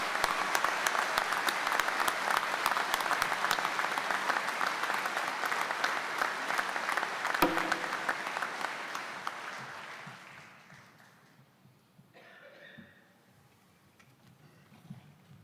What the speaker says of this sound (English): Let's have a round of applause for these Grand Lodge officers and their families.